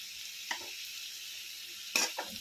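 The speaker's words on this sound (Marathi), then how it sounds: "यामध्ये छान असा मिक्स करून घेऊया." Spice masala being stirred into tomatoes already frying in a pan, a soft continuous sizzle broken by a few quick stirring scrapes near the start and a louder burst of stirring at the end.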